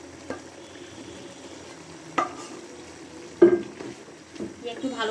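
A spoon stirring kacchi biryani meat in a pot of hot oil, with faint sizzling underneath and a few distinct scraping and knocking strokes against the pot, the loudest near the middle, with light talking in the background.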